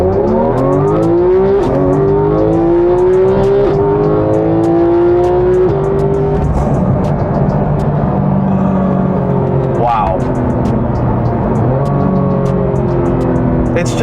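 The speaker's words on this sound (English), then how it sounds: "we're gonna get to do another little baby launch right here." A Porsche 911 GT3 launches hard from inside the cabin, its engine climbing loud and high through rising revs with a quick shift, then pulling on steadily. Someone speaks briefly over it.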